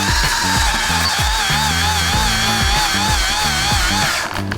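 A Ryobi angle grinder grinds steel continuously at close range, its loud, steady high whine wavering slightly in pitch while lower rumbling tones shift underneath throughout.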